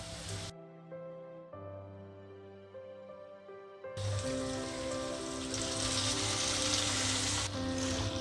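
A paste of ground garlic, chili powder and vinegar is tipped into prawns frying in a pan for prawn pickle, setting off a sudden, loud, sustained sizzle partway through, with tonal background music playing throughout.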